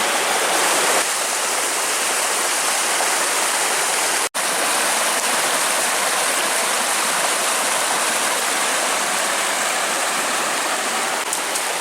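Shallow stream flowing around someone wading through it at a riverside bushcraft camp, a dense, loud, continuous rush of water close to the microphone.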